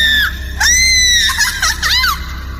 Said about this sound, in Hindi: और डर से चीखने लगी।